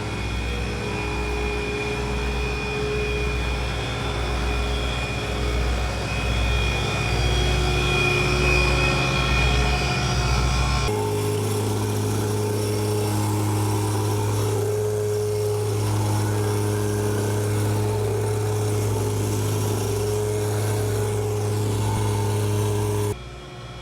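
Tractor driving a PTO power rake with big rollers and a hydrostatic drive, grading soil and pushing rocks, with a loud steady engine drone and mechanical whine that shifts partway through and runs continuously without talk.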